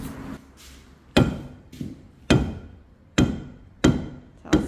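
Six loud hammer strikes on metal, spaced roughly a second apart, each ringing briefly before fading, close by with no talking.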